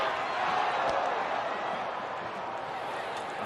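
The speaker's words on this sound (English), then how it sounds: "Real crowd noise in Anaheim tonight." Crowd noise in the Anaheim stadium during a White Sox–Angels baseball game, a steady wash of murmuring fans with faint scattered shouts, heard under a commentator's voice.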